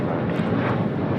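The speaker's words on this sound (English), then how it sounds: "This is Delta Airlines 1865, taking off to Puerto Vallarta on a 737-800" A Delta Airlines Boeing 737-800 takes off at LAX, its engines a loud, steady, broadband roar that fills the whole stretch without a break.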